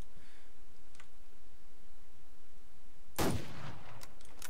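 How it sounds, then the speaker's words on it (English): A single loud gunshot from a long-range rifle in the Survarium team deathmatch shooter bursts out near the end after a quiet stretch, sharp and close with a short decaying tail. "I'm landing these long range shots though"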